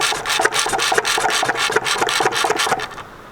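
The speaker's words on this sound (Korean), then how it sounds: "들리시는 것처럼 공기만 올라오는 소리가 계속 날 거예요." Rapid, rhythmic rasping strokes of an oil extractor pump drawing up only air from a Genesis Coupe engine, close and steady, about four per second, tailing off at the end.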